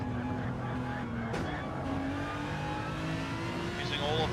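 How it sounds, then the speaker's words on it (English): An Aston Martin GT3 race car engine drones and climbs steadily at high revs in a racing video game, loud and continuous with rising pitch, under a commentator's voice. "Give this Aston Martin everything that it's got, because he wants to set an even faster time."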